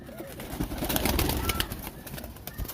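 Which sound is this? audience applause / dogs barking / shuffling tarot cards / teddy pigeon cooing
teddy pigeon cooing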